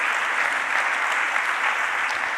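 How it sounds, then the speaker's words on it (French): A brief, thick burst of applause fills a hall as a conference speaker takes the stage at a regional social innovation gathering, loud and even from start to end. "vous pouvez l'applaudir"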